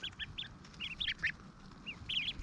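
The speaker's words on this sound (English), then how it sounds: "these are Ancona ducks and cotton patch geese" Ancona ducklings and Cotton Patch goslings give a run of high, peeping calls in short bursts with brief gaps between them, close and fairly soft, with no voices over them.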